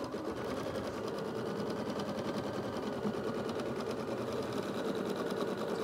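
A home embroidery machine stitches the outline of a softie toy in the hoop, a steady, even mechanical whirring hum that continues unbroken at moderate volume with no talk.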